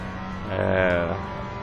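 Race car pulling out of the pit box under hard throttle in a racing sim game, engine tone rising then easing, with a steady low engine hum underneath throughout.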